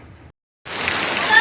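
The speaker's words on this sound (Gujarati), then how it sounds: "કેટલો બધો વરસાદ" Heavy rain falls as a steady, loud broadband hiss that starts abruptly after a brief silence and continues to the end, with a faint voice just before the gap.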